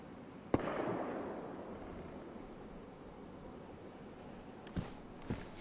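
Distant gunfire in the survival game DayZ: a single sharp report followed by a long fading rumble, then a few fainter, shorter cracks near the end, all heard far off over steady wind-like ambience.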